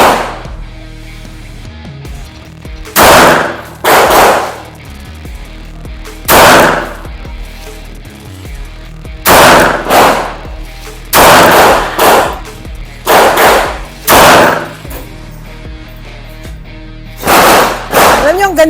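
A Smith & Wesson M&P pistol fires a series of loud, sharp gunshots at an outdoor range, spaced irregularly in pairs and singles with ringing decay, no talk between shots.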